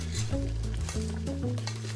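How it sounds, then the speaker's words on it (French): Sugar boiling into caramel in a saucepan over medium heat, heard as a soft, steady sizzle with occasional stirring scrapes, close by and continuous beneath a sustained tonal background, with no talking. "J'ai mis la casserole à chauffer sur feu moyen. Le sucre va fondre, puis bouillir et se transformer en caramel."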